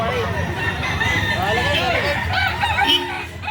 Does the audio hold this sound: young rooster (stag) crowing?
yes